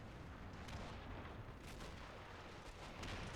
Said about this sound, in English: mortar destroying stuff